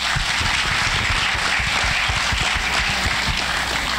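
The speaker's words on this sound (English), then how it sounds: "let's give him a warm round of applause." Audience applause at a commencement ceremony for graduates, a continuous roar of many hands clapping at a distance, with individual claps popping through a steady broadband hiss and no one talking.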